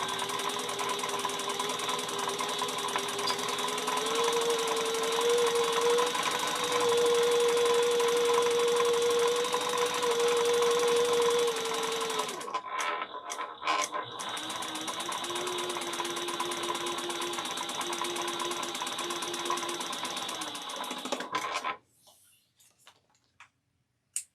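A sewing machine stitches straps for a travel bag in a fast, steady mechanical run. It stops briefly, then starts a second run and halts near the end.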